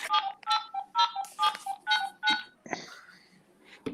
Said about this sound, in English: We got a dial tone.